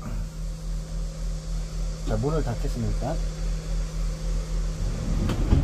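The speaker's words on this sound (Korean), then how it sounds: "여기 보시면 에어컨 지금 나오는 소리 나죠" A split-type air conditioner installed on a Hyundai Staria camper van runs with its compressor on, giving a steady low mechanical hum and airy blowing throughout, while someone speaks briefly in the middle.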